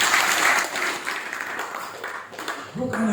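A church congregation at a pre-Christmas service claps together in a loud, roomy burst that thins out over a few seconds, with a voice starting up at the very end.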